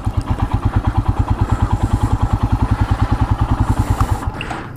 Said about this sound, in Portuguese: Essa aqui é a Himalayan da Royal Enfield.